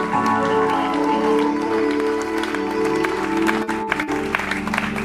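A church congregation applauds for the glory of God during a sermon, loud sustained clapping close by with a steady tone and voices mixed in beneath.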